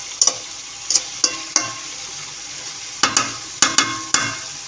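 A spatula scrapes and stirs green papaya stir-fry in a pan, giving about eight sharp, close clinks in two uneven bursts over a low, steady frying hiss, with no voices.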